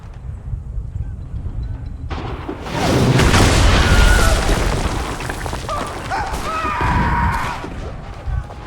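Heavy artillery booms and crashing blasts thunder through a Revolutionary War battle in Assassin's Creed III, a big explosion swelling near and loud and then rolling into further impacts and debris, with no talk over it.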